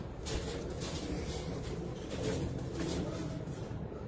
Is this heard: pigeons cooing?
yes